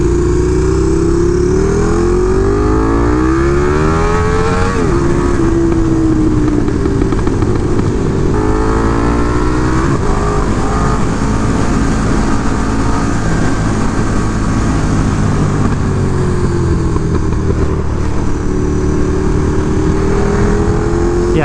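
A KTM 1290 Super Duke R motorcycle being ridden, its loud engine droning steadily close to the rider with rising and falling pitch through gear changes and revs, plus constant wind rush.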